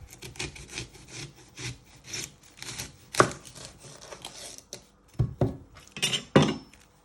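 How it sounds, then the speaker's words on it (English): A knife chops through a red onion on a board, giving a series of sharp cuts and taps of varying loudness, with heavier strikes near the middle and end and no talking. "So next step, you're going to prep your red onion. You're first going to chop your end off."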